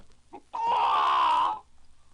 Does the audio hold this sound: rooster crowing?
yes